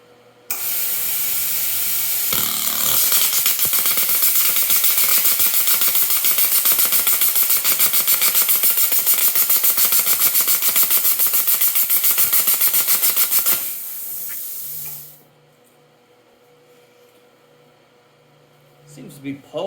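A repaired Dynapak 110 plasma cutter cuts metal with a loud, steady roaring hiss and rapid crackling pulses for about thirteen seconds. It then cuts off abruptly, leaving a low electrical hum and faint background noise.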